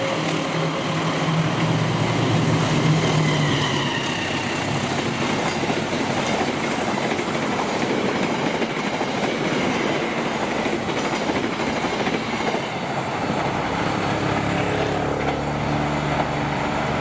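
The Kertajaya passenger train rumbles past nearby, a loud, steady roar of wheels and rail noise with faint clickety-clack that holds for the whole stretch, with no voices.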